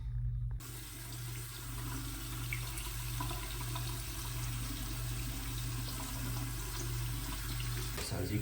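A bathroom tap runs steadily at close range for face rinsing, a constant rushing stream of water with a low hum beneath it and small splashes over the flow.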